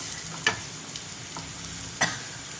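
Gram flour being roasted and stirred in a pan for a dill leaf dish, a soft continuous sizzle with two sharper scraping strokes of the spoon, close and without talk.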